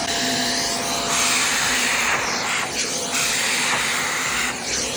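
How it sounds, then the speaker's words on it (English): A vacuum cleaner attachment pulls pet hair from fabric in a home, producing a loud, steady roaring whine with airy hiss that briefly shifts in pitch as the tool is dragged across the surface. "So I bought this new tool that's going to help to vacuum a lot of this off."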